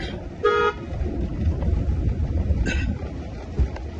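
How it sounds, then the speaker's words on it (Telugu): A car horn beeps twice while driving on a narrow, rough road, the first short honk loud and near, the second shorter and fainter, over continuous engine and road noise. "హార్న్ కొట్టండి"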